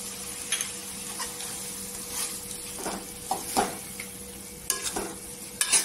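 Sukat dried fish and potato being stirred in a pan with coriander, producing soft scraping stirs and a few sharper spoon-against-pan knocks over a faint, steady sizzle.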